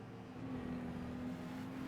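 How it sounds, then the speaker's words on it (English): Race car engine fitted with a sport exhaust in Gran Turismo 5, a steady, droning hum held at a constant pitch for a couple of seconds, moderately loud with no talk. "I'm pretty sure they put like a race or a sport exhaust on it because it just sounds so bad"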